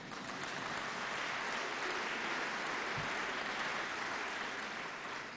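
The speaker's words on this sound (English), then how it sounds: "you may applaud" Continuous audience applause at a science conference welcome, an even wash of many hands clapping at moderate distance with no talk over it.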